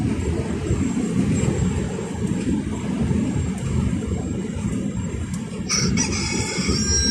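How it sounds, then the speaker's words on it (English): A rooster crows outdoors at a distance, partly masked by a low rumbling vehicle or engine noise, with a brighter, higher call near the end. "Oh, there goes my rooster."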